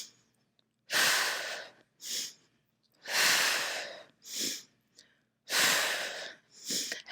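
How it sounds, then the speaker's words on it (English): Deep, heavy breaths during a side-lying exercise rush in and out close to the ear, with several long, loud exhales alternating with shorter inhales in an uneven rhythm and silent pauses between them. "And then inhale, exhale."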